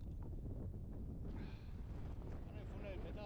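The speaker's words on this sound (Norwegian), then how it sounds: "selv om det blåser oppe" Wind blowing on a mountain top, a strong, steady rumbling gust buffeting the microphone throughout, loud and close, with a voice faintly underneath.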